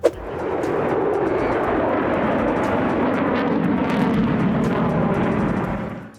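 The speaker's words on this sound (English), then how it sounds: "witnessing a 90-degree turn with afterburners by the F-22 Raptor" An F-22 Raptor fighter jet roars through a 90-degree turn on afterburners at an air show, a loud, sustained rumbling blast that holds steady for about six seconds before trailing off.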